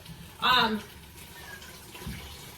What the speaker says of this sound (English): So I'm adding in, this is about a cup of water.